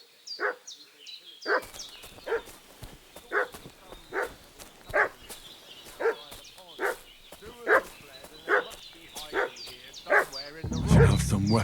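A dog in Kingdom Come: Deliverance II barks repeatedly in a steady, evenly spaced rhythm, fairly close, with a few whimpering yips between barks and some background game ambience.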